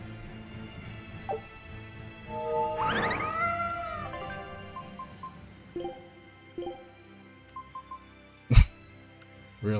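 A cat meows in the video game Tales of Berseria, one drawn-out rising and falling call standing out over a steady game soundtrack, followed by a few short blips and a sharp click.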